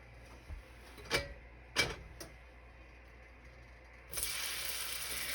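Food fries in a pan of hot oil on a home stove, a steady hiss of sizzling that swells in abruptly and holds loud, preceded by a few sharp clicks and knocks.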